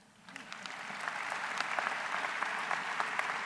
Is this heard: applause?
yes